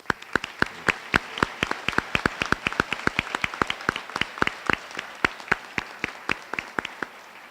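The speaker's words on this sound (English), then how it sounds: "Let's have another round of applause." Applause at a medical school white coat ceremony for SUNY Downstate's class of 2021 arrives as sharp, fairly close, individual claps from a modest group, steady and rhythmic, with no talking over it.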